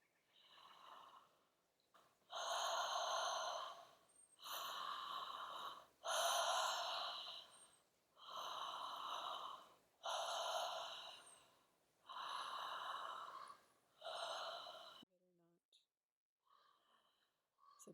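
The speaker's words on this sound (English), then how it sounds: "Just coming to breathing into all your body and engaging your breath with your whole body." Deep, full breaths during a guided breathing exercise, about seven long slow rhythmic inhale-exhale cycles, close and soft, then quieting at the end.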